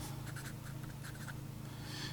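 A Sailor Profit 1911 fountain pen with a rigid medium fine nib scratching softly across paper in short strokes, close and quiet over a low steady hum.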